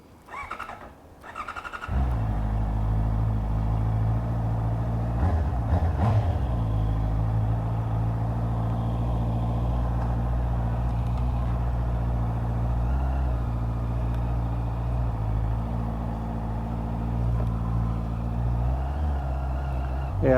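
A Honda CB650R four-cylinder motorcycle starts off and is ridden, its engine settling into a steady, loud drone with a shift or two around the middle, close to the rider with no talk.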